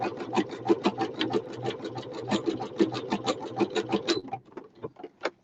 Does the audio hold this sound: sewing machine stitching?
yes